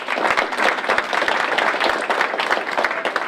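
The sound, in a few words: applause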